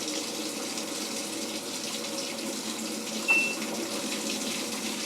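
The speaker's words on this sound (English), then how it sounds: "This press is going to be the inlet valve for detergent" Cold water detergent inlet valve on an LG top load washer in service test mode, filling with a steady, even rush of water through the valve, close and continuous, with one brief click partway through.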